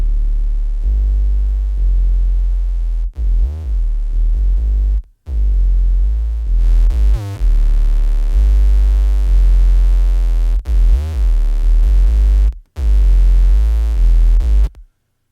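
Deep, buzzy 808 bass notes with diode and tube distortion, pitch glides and drops, played in phrases separated by short silent breaks, loud and heavy throughout.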